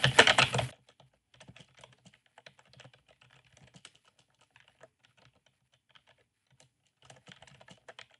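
Computer keyboard typing after a short loud burst at the start, with scattered quiet key clicks in uneven runs, fairly close and soft, and no talking.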